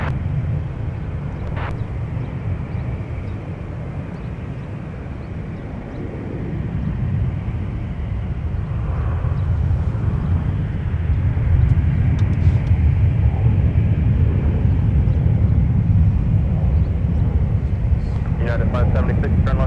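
An airliner landing on runway 12 Right at Minneapolis–Saint Paul airport gives a steady broadband jet roar that swells over the last half, with faint background voices mixed in.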